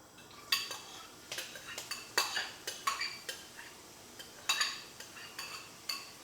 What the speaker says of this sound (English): I can use my metal spoon because it's a non-scratch surface